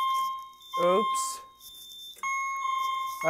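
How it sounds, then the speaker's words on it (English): A Notifier AFP-200 fire alarm panel gives a pre-alarm warning as a steady electronic beeping tone that cuts in and out, while people talk over it nearby. "we got a pre-alarm warning."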